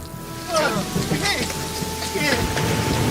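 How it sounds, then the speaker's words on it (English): Steady rain patters in a continuous broadband hiss while a person talks loudly and excitedly over it. "There's rain! Rain on my face!"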